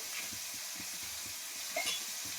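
Bata fish frying a few at a time in a small pan, a quiet steady sizzle with faint soft crackles, close but low in level with no speech.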